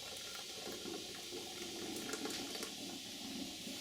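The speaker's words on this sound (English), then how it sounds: "take it and pour it through your handy dandy funnel" Hot ginger elixir pours through a funnel in a steady, close, gurgling liquid stream that lasts a few seconds without a break.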